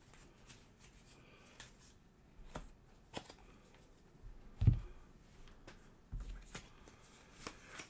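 A deck of board game cards for Spire's End: Hildegard is shuffled close by, giving soft papery riffles and scattered light clicks and taps over a quiet background, with no talking.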